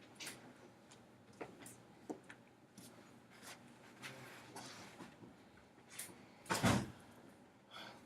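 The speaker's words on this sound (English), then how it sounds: "You might close the door." A door is pushed shut in a quiet classroom, giving one firm thud near the end after faint shuffling and small knocks.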